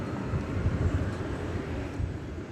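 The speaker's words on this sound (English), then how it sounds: "So that's a 747-8." A Boeing 747-8 arrives at DFW Airport with a steady, broad jet rumble that stays loud and even throughout, with no voices.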